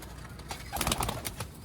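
Sialkoti black-faced pigeons on a rooftop loft give a short run of close, throaty coos with a few sharper bursts near the middle, no talk over them.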